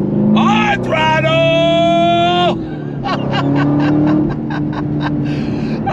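A car with a Tremec 6-speed manual revs hard on throttle, its pitch climbing in rising sweeps and then falling back into choppy bursts through the gear changes, loud and close with a voice talking briefly.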